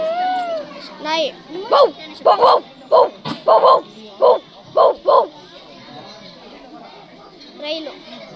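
At a children's school talent contest, a boy imitates a dog barking with his voice, about nine sharp, loud barks in quick, uneven succession, with quieter vocal sounds before and after.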